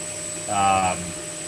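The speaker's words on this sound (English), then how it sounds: "That's a pretty big blower fan that's on the top." A large blower fan mounted on top of an FLSUN S1 3D printer gives a steady whirring hum, swelling briefly louder in the middle before settling back to a constant drone.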